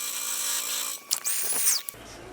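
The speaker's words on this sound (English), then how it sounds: "Then I'm going to come back and drill 2, 4, and 6" A power drill bores holes into the wood of a Washburn Dime 332 guitar body, one short whining burst of drilling with rising and falling pitch, close and loud, following a steady tool hum.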